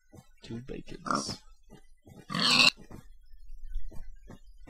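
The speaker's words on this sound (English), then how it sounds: "Oh, pigs. Let's go get some meat." Pigs in the Minecraft video game give a few short oinks and grunts at close range, mixed with a loud squeal-like burst and broken up by quieter gaps.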